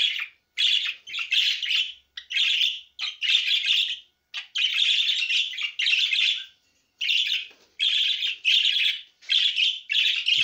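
Caged birds, six males with one female, chirp and tweet in rapid, bright bursts separated by short pauses, loud and close for the whole stretch with no talking.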